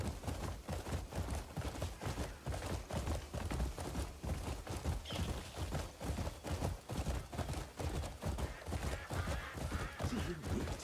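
Horse hooves galloping in the Crimson Desert video game, a steady fast drumming of heavy thuds under loud continuous game ambience, with the rhythm holding throughout and no talking.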